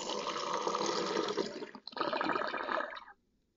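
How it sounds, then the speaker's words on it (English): Water pours steadily into an essential oil diffuser's tank, a rushing fill that briefly pauses, resumes, then stops abruptly. "we will go ahead and fill our container with 100 milliliters"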